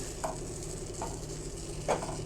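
Eggplant cooking in oil in a pan, a quiet steady sizzle with a few soft stirring scrapes.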